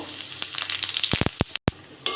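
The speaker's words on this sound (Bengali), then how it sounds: "তেলটা গরম হয়ে গেছে, আমি গোটা জিরে আর শুকনো লঙ্কা দিয়ে দেবো" Hot oil sizzles with a crackling hiss as whole cumin seeds and dried red chillies hit the pan, a few sharper bursts and a brief silent gap near the end.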